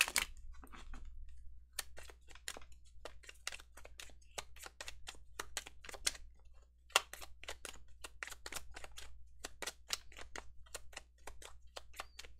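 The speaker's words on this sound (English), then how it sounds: "like that ASMR shuffling." Tarot cards being shuffled close up: soft, quiet flicks and snaps in irregular bursts against near silence.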